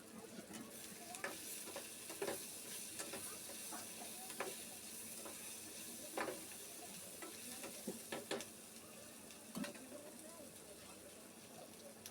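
Grated coconut being stirred and dry-roasted in a pan for a cashew masala, with soft sizzling and repeated scraping stir strokes throughout, fairly quiet and close.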